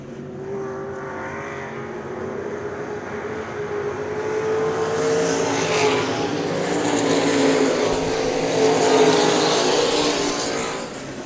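Race cars at a 2009 ACS racing event, loud engines roaring continuously as cars pass on the track, with a building, swelling drone and no talk.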